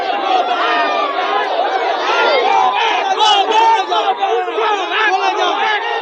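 A dense protesting crowd outside Padmerhat rural hospital in Kultali shouts go-back slogans, loud and continuous, with many overlapping voices and no pause.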